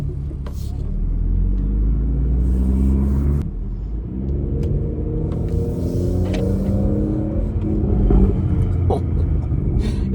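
A BMW F30 340i with a tuned B58 engine heard from inside the cabin while driving, a loud continuous rumble rising and falling with throttle, with short crackles and a brief lift in the middle.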